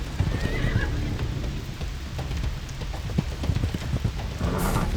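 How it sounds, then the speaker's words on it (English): Horse hooves clip-clop steadily as a horse is ridden through a violent storm, with rain hissing throughout and a brief whinny near the start. "One evening, while riding his horse, the prince got caught in a violent storm."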